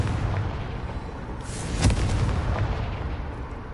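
A Confringo fire-blast spell goes off in the Hogwarts Legacy video game, a single booming burst with a sharp crack rising out of a steady rumbling background, then a lingering roar, no speech.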